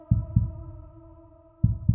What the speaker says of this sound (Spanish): Era el latido de su viejo corazón.